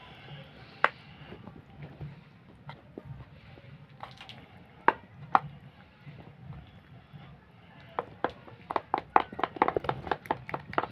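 Bare hands work chopped coriander, carrot and other vegetables together for a vegetable gola roti batter, making soft wet squelches and slaps that grow faster and denser toward the end.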